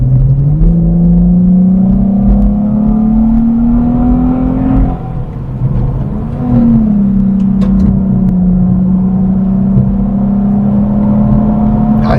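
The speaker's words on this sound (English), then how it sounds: "And I think the aftermarket exhaust just helps it bark that little bit more." Nissan Stagea wagon with an aftermarket exhaust accelerating hard on a road, a loud, close engine note rising steadily in pitch, a brief dip at a gear change, then pulling strongly again.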